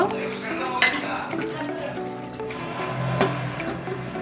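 Koi fish cooking in a pan with white and black mustard and green chili, a steady sizzle with light stirring and occasional utensil clinks, close and moderately loud, no voices.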